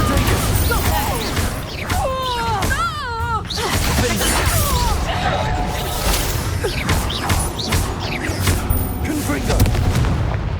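Spell blasts and explosions in the video game Hogwarts Legacy burst in quick succession, with whooshing casts and booming impacts over a busy combat soundscape, while a voice shouts incantations.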